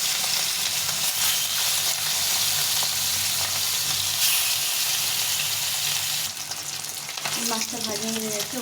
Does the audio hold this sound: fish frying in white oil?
yes